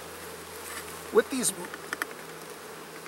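Honey bees buzz around an opened hive while the beekeeper adds honey supers and removes mite treatment, giving a faint, steady hum with a few brief louder bursts nearby and a short spoken phrase.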